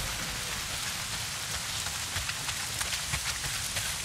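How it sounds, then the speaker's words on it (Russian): Heavy pouring rain in the video game Days Gone, a dense steady hiss of drops hitting surfaces with scattered louder spatters, continuous throughout and with no voices. "Дождь хлещет."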